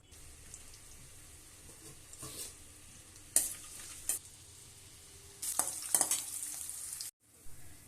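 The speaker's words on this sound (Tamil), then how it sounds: "இப்போ நம்மளுடைய வெங்காயம் ஓரளவுக்கு நல்லா ஃப்ரை ஆகி வந்திருக்கு" Onions frying in gingelly (sesame) oil for a brinjal curry, a soft steady sizzle with occasional louder stirring scrapes and clatters, close by, with no talking.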